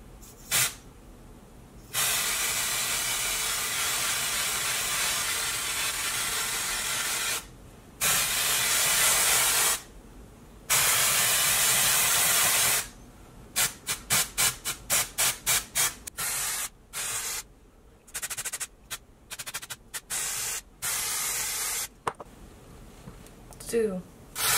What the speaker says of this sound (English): I'm just gonna like spray the crap out of my hair with the pink here.